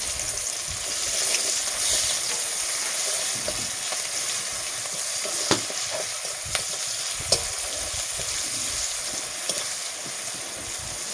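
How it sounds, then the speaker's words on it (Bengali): Onions and whole green chillies fry in hot salted oil, a steady loud sizzle with occasional sharp clicks of a spatula against the pan, and no one speaking. "তারপরে পেঁয়াজ আর কাঁচা লঙ্কা, গোটা কাঁচা লঙ্কাগুলো দিয়ে দেবো।"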